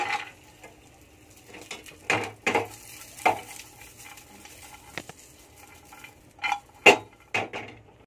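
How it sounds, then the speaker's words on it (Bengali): Cashews and raisins fry in ghee in a saucepan, giving a faint sizzle under scattered metal clinks and scrapes of a spoon against the pan, with a few sharper knocks spread through. "এবারে কাজু কিশমিশটা ভেজে নেব।"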